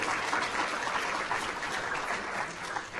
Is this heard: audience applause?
yes